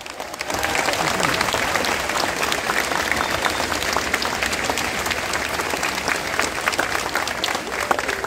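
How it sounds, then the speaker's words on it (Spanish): Loud, sustained applause rises from an audience at an academic ceremony, dense clapping that starts abruptly and stays strong and even for several seconds, with faint crowd murmur beneath. "Continuemos dando un estrendoso aplauso digno del rugido de un jaguar"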